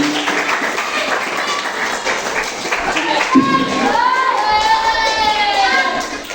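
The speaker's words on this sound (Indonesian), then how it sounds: "beri tepuk tangan buat Asfani." Scattered clapping from a small crowd at a children's speech practice at a Quran school, amid chatter and children's voices, with a voice rising in a sing-song tone near the end.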